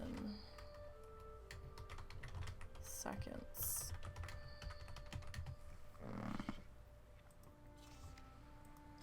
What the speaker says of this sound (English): I'm hitting all of the wrong keys today